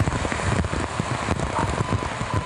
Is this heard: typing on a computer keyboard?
no